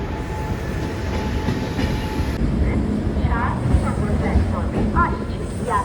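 The Jagannath Express passenger train runs between Kolkata and Puri with a steady rumble and rhythmic clickety-clack of wheels over rail joints, heard from inside a carriage, loud and continuous, with faint voices mixed in.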